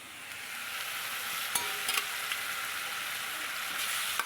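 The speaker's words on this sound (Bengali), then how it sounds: "একটা টমেটো কুচি দিয়ে দিলাম সামান্য আদা বাটা দিয়ে দিলাম" Chopped tomato and ginger paste frying with spices in a pan for a fish curry with cauliflower, a loud continuous close sizzle with a few brief clinks and scrapes of a stirring spoon, no talking.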